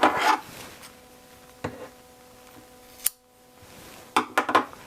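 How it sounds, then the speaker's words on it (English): Scissors cutting yarn: a few sharp, close snips spread across a quiet room, with a short cluster of cuts near the end. "Now I'm going to cut my yarn."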